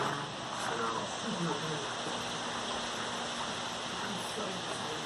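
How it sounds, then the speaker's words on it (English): Heavy rain pours outside in a dense, continuous hiss that stays loud and steady throughout, with no breaks in the wash of sound. "It's raining outside. It's raining a lot outside."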